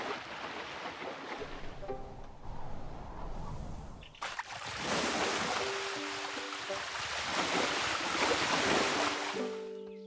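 Water waves in the Tiny Glade video game give a soft rushing wash, then a louder, fuller surf roar that swells and holds, with faint tonal chimes over it.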